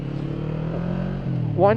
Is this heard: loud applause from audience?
no